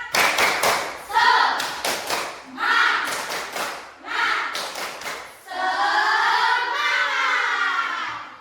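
A classroom of children performs a rhythmic spirit clap, bursts of loud group clapping in patterned beats with a teacher leading between sets, then the class shouts together.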